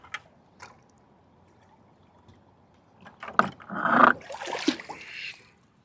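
A bucket is dipped into the Iowa River and filled, with scattered faint clicks and knocks followed by a louder burst of splashing and gurgling water lasting a couple of seconds.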